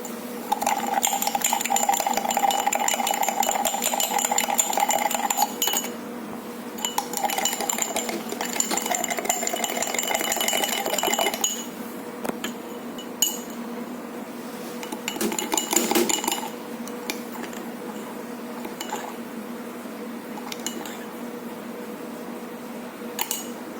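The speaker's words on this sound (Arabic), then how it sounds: "بعد ما ضربنا بقى النسكافيه مع السكر مع القرفة" A spoon beats Nescafé, sugar and ground cinnamon into a paste in a cup, making a steady, fast, close clinking and scraping that runs continuously for over twenty seconds with no talk.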